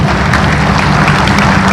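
An audience claps at a Naya Pakistan Housing Apartments speech in Lahore, a dense, loud, continuous patter of many hands with no gaps or voices over it.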